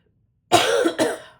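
A single close, harsh cough in two quick bursts, preceded by silence.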